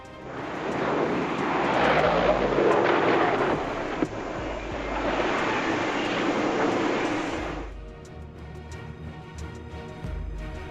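A light transport propeller plane roars loudly overhead at the Farnborough Air Show, its engine swelling and fading before cutting off abruptly as it crashes, leaving a quieter rumbling background.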